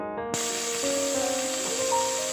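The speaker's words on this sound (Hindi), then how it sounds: "इसमें मैंने डाल दिया है टमाटर और मिर्ची, इसे फ्राई करूँगी" Tomatoes and chilies drop into a pan of half-fried onions and a steady, loud sizzle starts at once, hissing broadly and continuously to the end with no talking.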